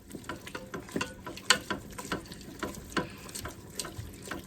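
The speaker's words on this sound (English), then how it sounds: "we want to keep whisking this deliciousness up" Whisk scraping and tapping through jerk gravy in a Ninja Foodi Deluxe pot on low heat, a steady run of quiet clinks and swishes with faint sizzle, no talk.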